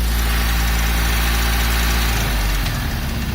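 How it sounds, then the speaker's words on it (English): A boat engine idles while running on a water hose, a loud, steady low rumble with a constant throb that shifts slightly toward the end, no voices over it. "But it's not even warmed up, and it'll idle a little lower."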